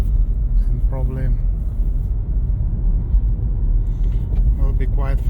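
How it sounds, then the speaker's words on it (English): A Skoda Kamiq 1.5 110 kW car drives through an urban area, its steady low engine and road rumble heard from inside the cabin, with someone talking over it. "So we are driving in urban area"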